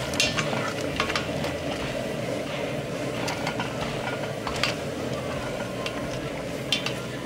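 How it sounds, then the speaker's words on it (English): A Whirlfloc tablet is stirred into boiling beer wort for a Black IPA brew, a steady, close roil of bubbling with scattered light scrapes and clinks of the spoon throughout. "We're going to throw that guy in and give it a stir."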